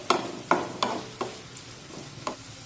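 Onions being stirred in hot oil with a spatula over a medium flame, for a dry bell pepper stir-fry: about six sharp scraping strokes at a steady rhythm, close and moderately loud, with a soft sizzle underneath and no talking.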